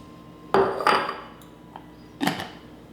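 Toasted pecans are set down on a cutting board, giving three distinct clattering knocks with a softer tap between them, close and clear in a quiet kitchen.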